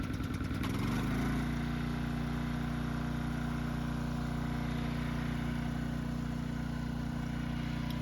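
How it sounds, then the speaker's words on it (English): A generator runs steadily on a farm during a snowstorm, a constant low engine drone with a strong hum that settles after a brief rise in the first second and holds even and close for the rest, with no talking. "So you can hear the generator running."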